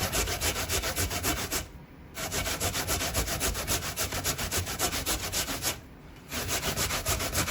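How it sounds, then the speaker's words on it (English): Coconut scraped up and down on an old-fashioned hand grater makes loud, rapid rhythmic rasping strokes, pausing briefly twice before resuming, with no talking. "So this is the old-fashioned grater"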